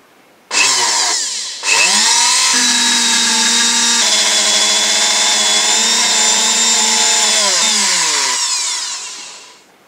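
A loud drill whines steadily at high speed boring a 1.2 mm hole in a metal part, briefly stopping and restarting, then running continuously before winding down at the end.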